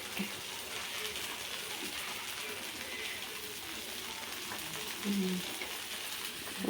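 Ragi dosa with an egg omelette frying in a little oil on a pan gives a steady, close hiss and crackle throughout, with a brief louder sputter near the end and faint voices in the background.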